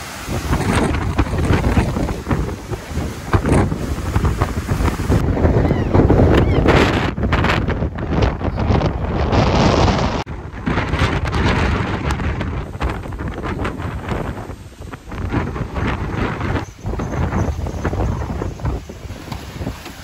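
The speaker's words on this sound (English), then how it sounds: "Look at this wind. This wind is nutty" Strong, gusting wind buffets the microphone on a beach during Hurricane Ian, a loud continuous roar with surging blasts and brief lulls, rushing high-tide water underneath.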